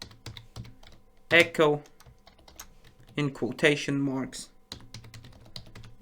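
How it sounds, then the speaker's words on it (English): Computer keyboard typing in a Git Bash terminal on Windows, quick light clicks scattered throughout, partly under a person speaking. "We can do this also in another way by typing"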